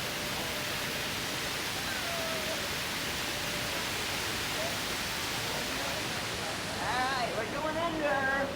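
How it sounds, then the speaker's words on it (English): McGraw waterfall in New York City roars as a constant broadband rush of falling water, loud and close, with voices talking over it near the end. "This is the McGraw Waterfall right here, and we're going to walk underneath this waterfall."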